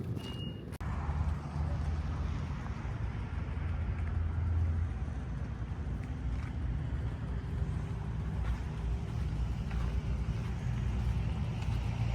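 A car drives along a road in the Colorado mountains near Lake City, its steady low engine and road rumble holding constant and fairly loud throughout, with no talk.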